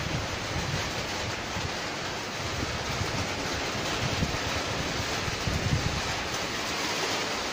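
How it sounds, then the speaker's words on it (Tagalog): Strong wind from Typhoon Ambo roars in a steady, dense rush that swells slightly near the end, loud and continuous with no talk over it. "sobrang lakas ng hangin"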